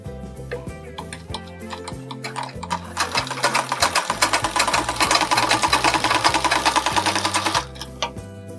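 A sewing machine stitches a blouse sleeve hem, its needle ticking in a fast mechanical rhythm that speeds up into a steady, busy whir before slowing again, close and clear.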